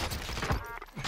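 Bursts of QBZ rifle fire in Call of Duty: Warzone on Rebirth Island, a quick dense volley of close, loud shots lasting about a second with no talk over it.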